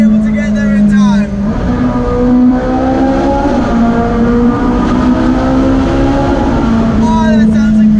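A Ferrari engine revving hard toward 9,000 rpm, a loud sustained howl climbing steadily in pitch from inside the car, with a brief talking voice at the start and end.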